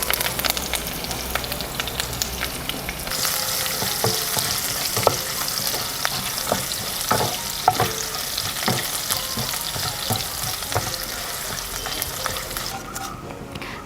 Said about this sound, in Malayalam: ചെറിയ ഉള്ളി, ഒരു 3-4 വറ്റൽമുളകും കറിവേപ്പിലയും കൂടെ ചേർത്ത് നന്നായിട്ടൊന്ന് താളിക്കാം.